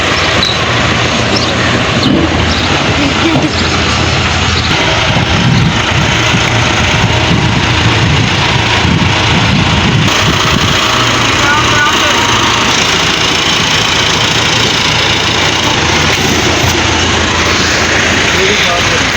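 A loud, constant tractor engine rumble drones throughout at close range, with a steady low throb and a brief shift in tone midway.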